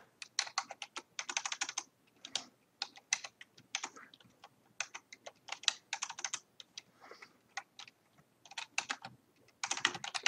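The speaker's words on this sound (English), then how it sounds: "Sorry, this keyboard." Computer keyboard typing: rapid bursts of close, clicky keystrokes in uneven rhythmic runs separated by short pauses, continuing throughout without speech.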